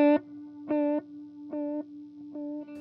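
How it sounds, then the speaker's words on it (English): Guitar note fed through the analog modulated delay mode of a TC Electronic Triple Delay pedal, four spaced repeats slowly fading with a slight wavering shimmer, heard alone up close. "Here's the analog modulated sound."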